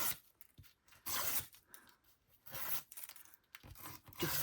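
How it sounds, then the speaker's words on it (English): Paper scraps ripped by hand in several quick bursts of crisp tearing separated by short pauses, close and quiet, with no talk. "I'm going to rip it so it fits"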